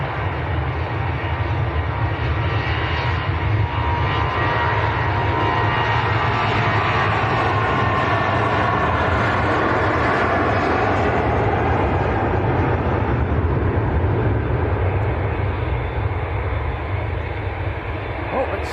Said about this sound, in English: it's just the Ryanair on the roll at the moment